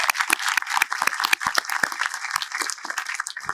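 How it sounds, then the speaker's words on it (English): An outdoor audience at a Fort Drum retiree appreciation ceremony applauds the Retiree Council, a dense, steady patter of many hands clapping at moderate distance, with no voices over it. "How about a big round of applause for our Retiree Council?"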